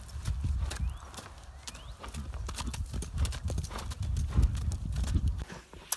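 Hooves of a Mustang gelding named Ivan clip-clopping steadily at a trail endurance ride, close and fairly loud, a continuous rhythmic stream of hoof strikes with occasional snorts and no talking.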